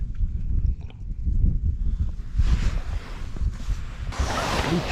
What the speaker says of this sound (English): it's just wind's blowing and hands have been cold